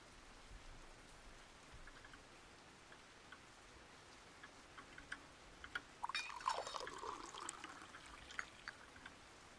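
Rain falls in the Russian Fishing video game on the Sura River, a soft, steady patter with drips that grows louder and denser partway through, no voices.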